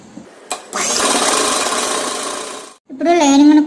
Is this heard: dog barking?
no